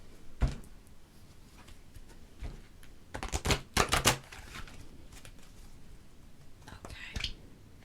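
Oracle cards are shuffled in short bursts of papery riffling, loudest in a cluster near the middle, with soft quiet gaps between and a faint hushed murmur nearby.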